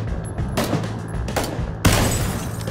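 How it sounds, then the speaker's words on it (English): Gunfire in PLAYERUNKNOWN'S BATTLEGROUNDS: a few loud, close bursts of shots at an irregular rhythm, with a heavier blast near the end, over a dense steady game background with no talking. "He's shooting right now."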